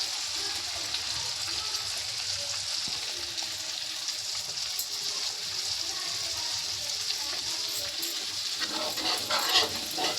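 Masala spices roasting in a hot pan before buttermilk goes in, a steady soft sizzle with faint scraping and stirring, no voices, fairly quiet and even throughout.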